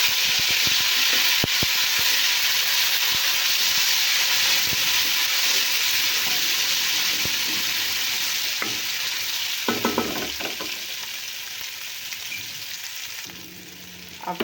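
Garlic paste sizzling loudly in hot oil with onions in a pan, a steady close hiss with occasional stirring clinks and scrapes, and no talking.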